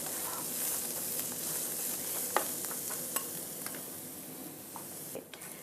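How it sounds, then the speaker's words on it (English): Carrots sizzling in a skillet for Korean bibimbap, a steady close hiss of frying with scattered scraping stirs and small pops, no voices. "you just want to cook it until the carrots are nice and tender"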